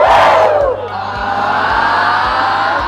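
Crowd of campers at a summer camp hollering back loudly in unison, a dense burst of shouting that peaks at the start, then settles into a sustained roar of voices.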